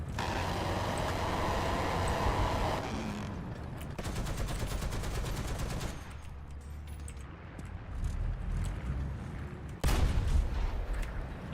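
Cannon gunfire in a video game, with loud bursts of rapid, repeated shots over a continuous rumbling battle backdrop that shifts in intensity, and no speech.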